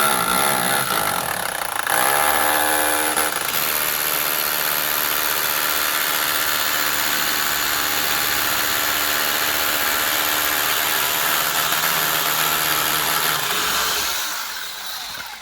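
SDS drill boring into masonry for a UPVC double-glazed window installation, a loud continuous motor whine with hammering vibration held steadily for over ten seconds before winding down.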